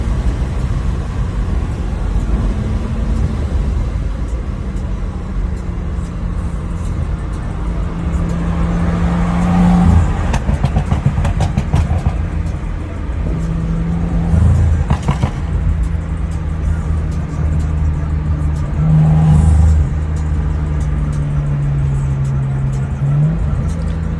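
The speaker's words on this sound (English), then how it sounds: "That custom intake sounds damn good" A BMW F10 535i engine with a custom intake and pops-and-bangs tune hums steadily nearby, then rises in a few throaty pulls as it accelerates on a night drive, with road rumble underneath throughout.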